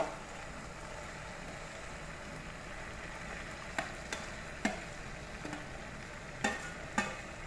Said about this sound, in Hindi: इसमें मैं ऐड कर रही हूँ गोभी और आलू फ्राई किए थे वो दोनों।